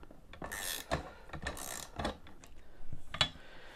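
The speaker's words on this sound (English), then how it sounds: "now I've got those bolts tightened up, still not super tight" A ratchet wrench tightens bolts on an Agri-Fab 85 lb tow-behind broadcast spreader, giving quiet, close clicking and scraping in short irregular bursts.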